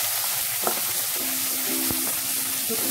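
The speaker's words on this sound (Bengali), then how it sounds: "শুটকিটা একটু ভাজা ভাজা করে নেব" Dried kachki fish fries in a pan, a short spell of dense, even sizzling close by, with a faint tonal hum in the background and no voices.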